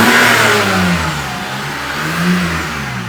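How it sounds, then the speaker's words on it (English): A BMW E90 328i fitted with a Turner cold air intake revs up loudly and close, the engine note rising and falling across a few seconds with a steady whine layered over the intake roar. "All right, give her some revs, bud."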